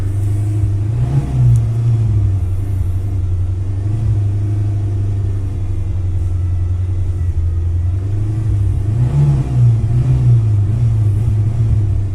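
A carburetted car engine drains the last of its fuel, holding a steady low rumbling idle with a few surging revs as the throttle is pressed near stalling, close and continuous with no voices.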